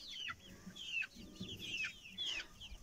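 Several crested hens without combs clucking softly nearby in a Russian village, with short rising calls repeating every half second or so over a quiet farmyard background.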